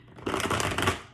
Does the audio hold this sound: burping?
no